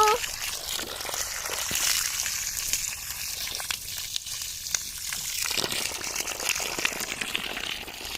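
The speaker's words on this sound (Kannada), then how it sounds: "ಇವಕ್ಕೆಲ್ಲ ನೀರು ನೀರಾಕೋಣ ಗಿಡಕ್ಕೆ" Water is poured over potted garden plants, giving a steady trickle and splash throughout, with people talking over it.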